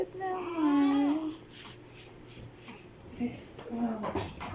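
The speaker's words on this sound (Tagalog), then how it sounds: "May ingay si baby." A month-old baby babbles and coos in rising, sing-song vocal sounds, close and fairly loud, with soft scratching and handling noises between the sounds.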